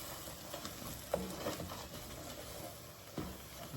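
A smoked chicken enchilada casserole mixture is stirred in a pan over lowered heat, with faint sizzling and two sharper scrapes of the spoon.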